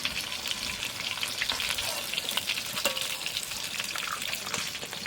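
Rui fish sizzles and crackles steadily in hot oil in a home kitchen, a dense, continuous frying hiss with small pops scattered throughout, close and fairly loud with no talking.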